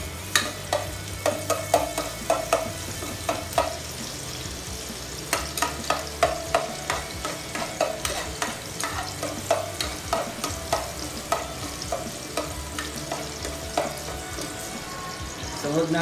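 Garlic sautés in a pan for ginataang kalabasa at sitaw with shrimp, a constant sizzle under repeated rhythmic scrapes and taps of a spatula stirring, close and steady throughout.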